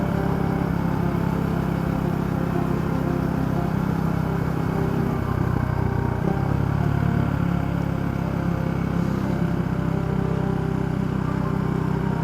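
A motorcycle rolls through roadworks among sugar cane fields, its mid-pitched engine running steadily and loud close up with a faint rattle, with no talking.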